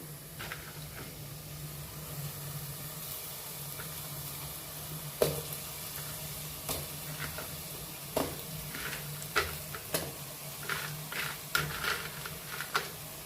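Cleaned crabs sizzle steadily in a hot pan for Godavari-style Andhra crab curry, with scattered clinks and scrapes of stirring against the pan.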